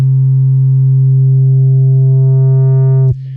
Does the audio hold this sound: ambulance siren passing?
no